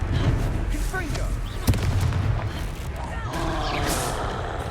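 Confringo spell explosion in the Hogwarts Legacy video game: a sharp burst lands mid-clip amid a dense, steady rumble of game noise and effects, with a brief flare of crackling energy near the end.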